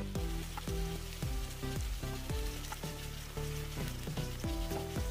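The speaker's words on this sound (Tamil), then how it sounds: "இந்த தக்காளிய போட்டு இதுவும் நம்ம ஒரு 3 நிமிஷம் நல்லா வதக்கி எடுத்துக்கலாம்." Tomato paste and chopped bottle gourd sautéing in a pan for a dry fish gravy: a constant loud sizzle with bubbling crackle and repeated soft stirring scrapes close by, and no voices.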